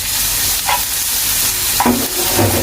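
Garlic and onion sautéing in a pan with oil, a loud continuous sizzle broken by a couple of brief stirring scrapes, close up with no talk.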